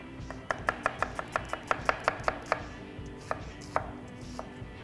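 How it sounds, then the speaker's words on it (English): A knife slices onions for a Santa Maria tri-tip marinade, giving a quick, even run of about a dozen crisp chops on a cutting board. A few slower cuts follow, close and clear over a low background hum, with no talk. "we're gonna slice up a little bit of onions"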